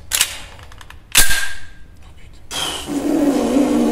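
A Desert Eagle .44 Magnum pistol fires two sharp, loud gunshots close by, about a second apart, followed by a rougher burst of noise.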